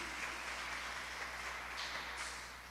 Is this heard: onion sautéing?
no